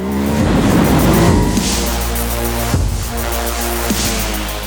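Ducati Hypermotard 950 RVE motorcycle engine under hard throttle, a loud, close, rising twin-cylinder roar with a deep rumble and a brief break in the revs partway through before pulling hard again.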